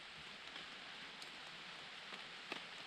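Light rain falls outside a campsite on a mountain on the Appalachian Trail near Saddleback, a faint steady patter with occasional louder drops, with no talking.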